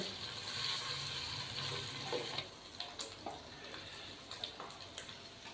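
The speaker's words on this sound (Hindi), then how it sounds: "बीफ को हमने 4 से 5 मिनट अच्छी तरीके से भून लिया है" Boiled beef frying with paste in a pot for beef yakhni pulao, a steady sizzle with broad hiss that drops after two seconds, then intermittent stirring clinks and scrapes, close and moderately loud, no voices.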